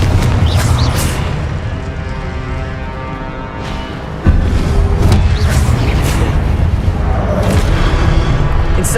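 Confringo spell blasts in the Hogwarts Legacy video game, heavy booming explosions with a strong hit about midway, layered over continuous rumbling battle noise.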